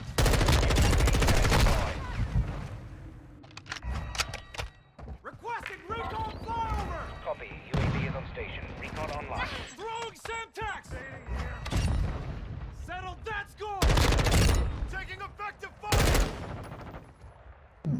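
Rapid M4 rifle fire in Modern Warfare 2, loud close bursts at the start and end with scattered shots and booms between, under frequent excited voices talking over the action.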